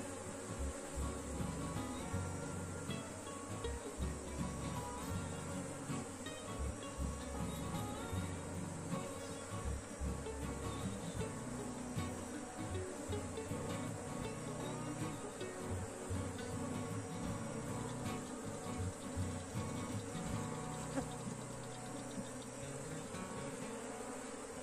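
Many honeybees buzz around an open hive box as a beekeeper inspects a colony, a dense, steady, close drone with no voices.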